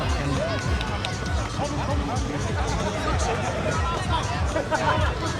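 A rugby league crowd at Arutanga Park in Aitutaki mingles in steady hubbub and chatter, a broad wash of voices and movement heard throughout at moderate level.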